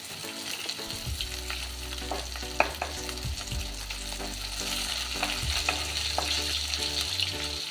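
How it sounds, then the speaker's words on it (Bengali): Cinnamon, crushed black cardamom and a few green cardamom pods crackle and sizzle in hot oil left from frying fish, with stirring scrapes and small pops over a low steady hum, close and alone. "এবার দিয়ে দেব একটা ফোড়ন, দারচিনি, একটা বড় এলাচ থেতো করে নিয়েছি"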